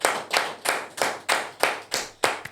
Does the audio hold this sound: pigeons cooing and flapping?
no